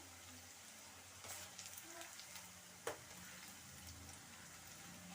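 Onion pakoda frying in oil over a low flame gives a faint, soft sizzle with small crackles and one sharp click partway through.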